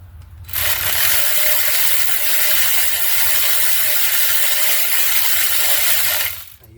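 Ratchet wrench running down engine mounting bolts during a 2009 Dodge Journey engine installation, a steady close, loud continuous clicking whir lasting about six seconds with no talk.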